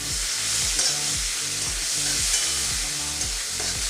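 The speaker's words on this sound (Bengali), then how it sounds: "এবার এই তেলেই আমি দিয়ে দিচ্ছি একদম পাতলা করে স্লাইস করে কেটে রাখা একটা মিডিয়াম সাইজের অনিয়ন।" A medium-sized onion, sliced very thin, hits hot oil and fries with a steady, loud, dense sizzle, punctuated by soft rhythmic stirring scrapes throughout.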